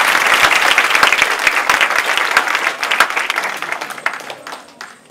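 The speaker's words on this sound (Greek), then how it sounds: "νομίζω αξίζουν ακόμη ένα θερμό χειροκρότημα." Warm, dense applause from a school audience for teachers and children fills the room loudly and steadily, then tapers toward the end.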